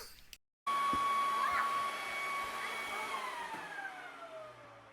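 A shop vac hooked up in reverse blows air out inside a science center exhibit, a loud steady whooshing roar with a whining motor tone that starts abruptly and continues throughout, close by.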